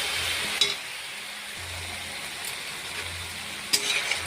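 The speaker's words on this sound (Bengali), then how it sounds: "আর এবার মশলাটা সুন্দর করে কষিয়ে নেব।" Spice masala with Kashmiri red chili powder frying in a pan, giving a steady crackling sizzle with occasional sharp spoon scrapes and knocks against the metal, no voices.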